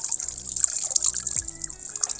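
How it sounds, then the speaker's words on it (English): Water trickles and splashes as it is poured out of a basin after washing a corset, a light, uneven stream with no talking. "empty out this water"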